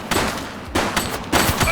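Gunfire in the police game The Precinct comes as three sharp, loud bursts in under two seconds, each breaking off abruptly against a low background.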